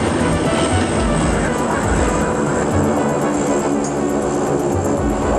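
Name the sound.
airplane taxiing on aircraft carrier deck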